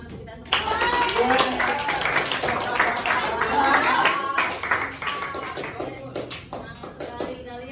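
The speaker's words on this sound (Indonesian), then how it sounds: "Tepuk tangan untuk kita semua." A classroom audience of children at a school teaching practice session claps hands together in a loud, dense burst of applause mixed with excited voices, gradually thinning out toward the end.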